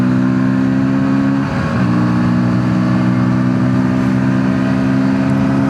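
A KTM Duke 160 motorcycle engine hums loud and smooth while riding, holding a steady mid-pitched drone with a brief dip and swell of revs partway through, no talking.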